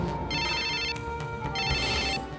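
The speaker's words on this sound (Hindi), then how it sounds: "आ गया फोन।" An electronic telephone ringtone chirps in two bursts of rapid beeping with a short pause between, loud and close, playing alone without speech.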